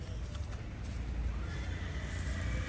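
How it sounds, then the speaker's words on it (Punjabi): Two mares neighing while being led inside, their calls mixed with hoof clops over a quiet, noisy background. "ਦੋਹੇ ਘੋੜੀਆਂ ਅੰਦਰ ਲਈ ਜਾਂਦੇ ਆ"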